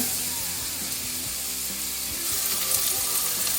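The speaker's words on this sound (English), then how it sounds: "I'm going to go straight in with my onions and my garlic and some chili flakes" Onions, garlic and chili flakes frying in a pan as the base of a spicy tomato sauce, a continuous close sizzle with low background hum and faint clatter throughout, no talk.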